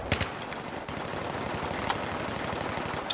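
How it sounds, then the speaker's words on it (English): Rapid automatic gunfire from a close-quarters gun in Battlefield 3, a dense continuous burst of shots lasting the whole stretch with a few sharper cracks standing out. "This gun's really good for close quarters"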